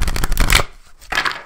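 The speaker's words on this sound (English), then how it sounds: "Okay, shuffle, shuffle, shuffle, shuffle, shuffle, shuffle." Tarot cards riffled and shuffled by hand, a dense burst of papery flutter followed by a brief pause and a second shorter shuffle, close and loud with no talking.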